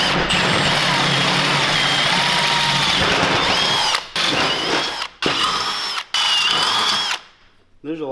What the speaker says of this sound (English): So we'll get these holes drilled out